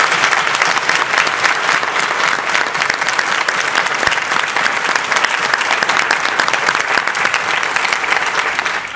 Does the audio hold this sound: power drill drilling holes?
no